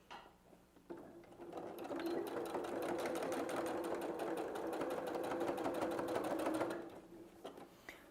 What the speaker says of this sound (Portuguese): a gente vai passar uma costura aqui bem na beiradinha, fixando o tecido nessa posição aqui